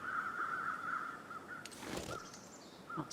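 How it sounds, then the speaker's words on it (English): Crows caw in the snowy wilderness of the video game The Long Dark, a faint call repeated over a steady ambient tone, with no voices. "What are those birds?"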